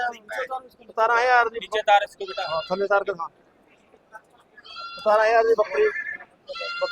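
Goats bleat at the Maur goat market, with several close, wavering calls in two clusters separated by a short quiet gap. The calls are loud and rise over a busy market.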